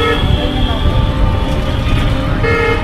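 An auto rickshaw carrying six passengers moves through traffic in Ujjain, with horn toots sounding at the start and near the end over a constant engine rumble while people talk.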